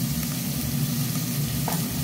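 Peas, onion and garlic frying in a pan, a steady close sizzle that holds level and unbroken throughout with no talk over it.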